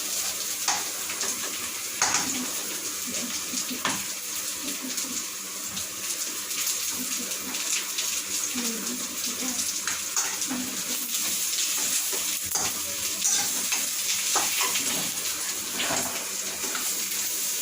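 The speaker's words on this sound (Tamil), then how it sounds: "இப்போ நல்லா வதக்க வேண்டும்." Ingredients sautéing in a pan for about two minutes, a continuous close sizzle and hiss broken by scattered scrapes and knocks of stirring, fairly loud, with no talking.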